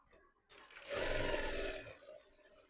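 A sewing machine stitches slowly along a practice sample, its motor whirring up for about a second and then winding down, faint and close in a quiet room.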